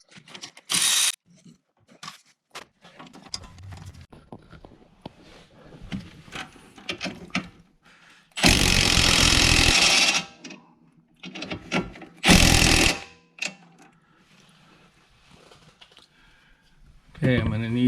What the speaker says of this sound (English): I'm going to start undoing the front sway bar end links